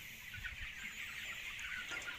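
A flock of roughly 40-day-old chickens clucking steadily in a farm coop, a dense, continuous chorus of close clucks with faint rustling.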